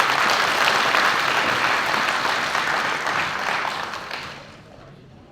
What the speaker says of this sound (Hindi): जोरदार ताली बजा के अभिनंदन